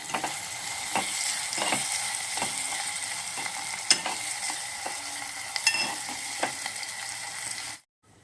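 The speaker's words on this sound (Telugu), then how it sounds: "నూనె కాగింది, ఆనియన్ వేసాము." Chopped onions fry in hot oil in a pan for phool makhani curry, a steady close sizzle with occasional clicks of a stirring spoon against the pan, cutting off abruptly at the end.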